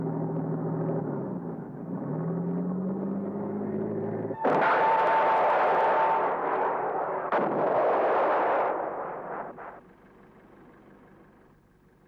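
An anti-tank missile launched against a tank gives a sharp blast that gives way to a loud roaring rush, with a second crack and a long fading rumble following a lower engine drone.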